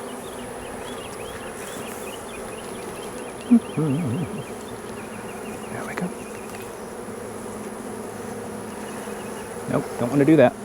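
Dense, steady buzzing of honey bees around an opened hive, with occasional scrapes and knocks of frame handling, and a person speaking briefly near the start and end.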